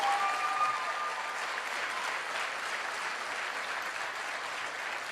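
A motivational seminar audience claps steadily throughout, dense sustained applause that swells slightly at the start and then holds an even level.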